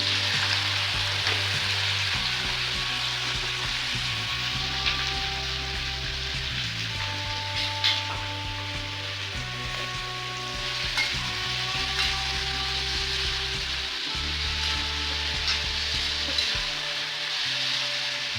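Cumin seeds frying in hot ghee and oil, with a dense, loud, continuous crackle and sizzle close by and steady throughout, without speech.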